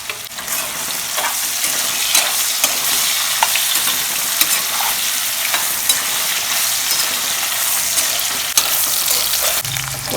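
Raw banana slices fry in hot oil, making a loud, dense, continuous sizzle close up, with occasional clicks and stirring scrapes throughout.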